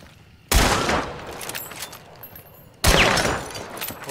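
Gunshots in the video game Hunt: Showdown: two loud, close blasts about two seconds apart, each followed by a rumbling echo that slowly fades.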